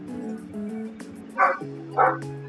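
A dog gives two short, loud barks at a steady pace, with a faint tonal background running underneath between them.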